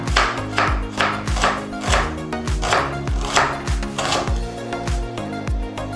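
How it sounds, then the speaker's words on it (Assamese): A knife chops onions on a cutting board while peanut and eggplant curry ingredients are prepared. The steady, evenly spaced chops are close and distinct, with soft music playing underneath. "তো পিঁয়াজখিনি আমি কাটি লওঁ।"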